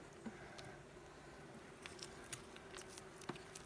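Faint honey bee buzzing drifts around a log hive in a quiet outdoor setting, with occasional soft clicks and brief rustles scattered throughout.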